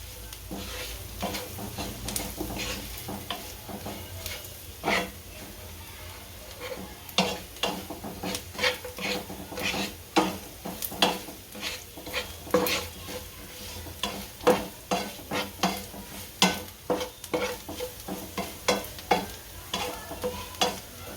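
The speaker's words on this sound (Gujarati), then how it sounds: "આ હળદર, આ આપણું કશ્મીરી મરચું. આને ભેળવી નાખશું." Turmeric and Kashmiri chili are stirred into a sizzling tadka for dahi tadka. A steady hot-oil sizzle runs throughout under repeated sharp scraping strokes of a spoon against the pan. The strokes grow quicker and louder toward the end.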